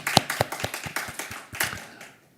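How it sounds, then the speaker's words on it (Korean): A church congregation gives a brief burst of rhythmic clapping after a sermon on Matthew, with sharp, distinct claps that thin out and fade within about two seconds. "우리 하나님께 영광의 박수 힘차게 올려드립니다"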